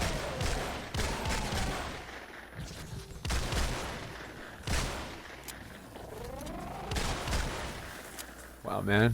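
Shotgun fire in Fortnite Save the World, sharp loud blasts spaced a couple of seconds apart with rattling impacts and effects between them, someone talking over the gameplay.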